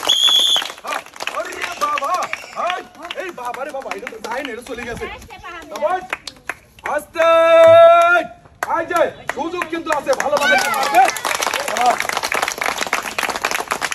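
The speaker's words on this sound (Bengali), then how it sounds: "সবাই একটা জোরে তালি দিবেন" An audience claps loudly during a game where players fan a ball into a hole, bursts of clapping mixed with speech and lively background sound, a short tone sounding midway.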